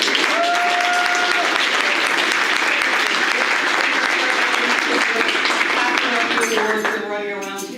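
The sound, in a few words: dinner audience applauding the event coordinator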